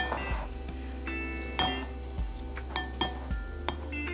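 Bibimbap, the Korean rice bowl, is mixed in a bowl: a handful of sharp, bright clinks of utensil against dish ring out at irregular moments over a quiet background.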